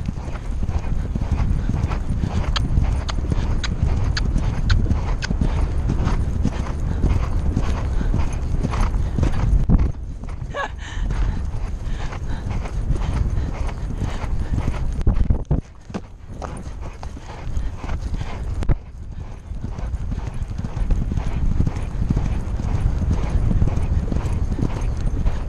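A horse's hooves clip-clop in a steady, close rhythm during a ride, with brief pauses in the pace, and a rider's voice comes through faintly now and then.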